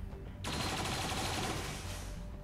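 Gunfire in XCOM 2, arriving as a sudden loud burst of rapid shots that carries on steadily for a couple of seconds after a brief quieter lead-in.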